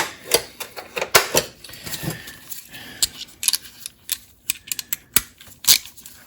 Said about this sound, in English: I'll move down to the regular size ratchet.